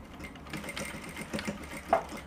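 Sewing machine stitching a seam on a kimono flare dress, a faint steady mechanical whirring hum running briefly with no talk.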